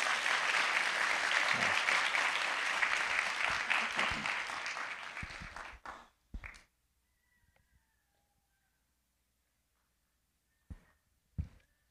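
Guests applaud at a church wedding ceremony, a dense burst of clapping for about six seconds that fades out, followed by near silence and a couple of faint knocks.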